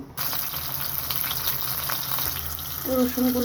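Garlic cloves frying in hot oil with dried chillies give a steady, moderately loud sizzle that carries on through the whole stretch, with faint stirring and clinks near the end.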